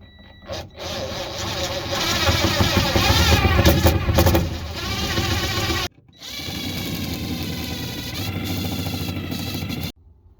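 A power drill grinds loudly and steadily through sheet metal spot welds, pausing briefly midway before resuming, with the whine cutting off near the end.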